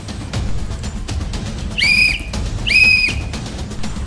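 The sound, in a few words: two whistle blasts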